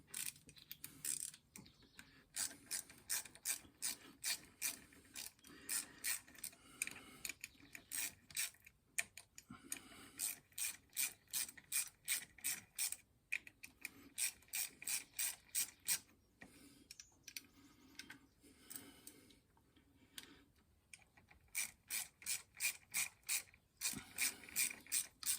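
A ratchet works the bolts loose on a Royal Enfield Bullet 500 during an oil change, fast close-up bursts of crisp clicking repeated over and over with short pauses between strokes, and no talking.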